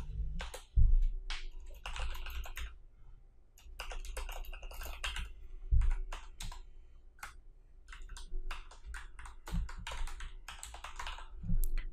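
Computer keyboard being typed on while writing HTML code, irregular bursts of close, crisp key clicks with short pauses between runs and an occasional heavier keystroke.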